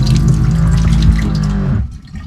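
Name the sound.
water pump running at tap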